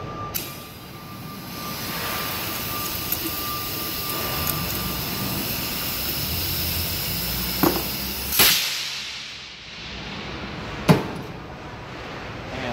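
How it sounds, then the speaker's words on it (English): Uncaging the bolt on a 3030 air brake chamber brings a steady airy hiss with a few sharp metallic clinks and a brief burst of air toward the end, close by and otherwise free of talk. "I'm going to uncage this bolt."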